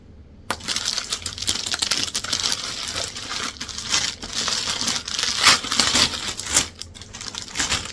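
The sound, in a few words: handling gift packaging of a Coach bucket bag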